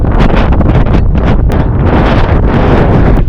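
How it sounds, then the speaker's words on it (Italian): A powerful wind blasts against the side of a ferry, a loud, steady roaring buffet that overwhelms the microphone from start to finish with no other sounds rising above it. "c'è un vento potentissimo sui fianchi della nave"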